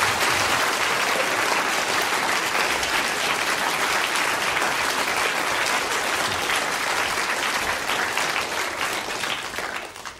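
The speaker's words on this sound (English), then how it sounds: "I think that both Andrew and Squeeze deserve a round of applause." Steady, dense applause from a lecture audience, continuous clapping at an even loudness that fades slightly toward the end.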